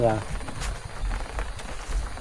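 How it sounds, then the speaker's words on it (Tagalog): Raindrops patter steadily on a rubber sheet laid over a nipa thatch roof, a dense, close, irregular tapping that continues throughout. "yung patak na naririnig nyo na yan, dito yan sa gomang pinatong namin dito"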